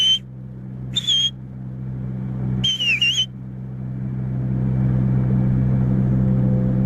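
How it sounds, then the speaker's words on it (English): A person whistles a few short rising-and-falling notes to call a bird, three separate bursts over a steady low rumble of passing traffic that grows louder toward the end. "Hold on, I'm gonna whistle."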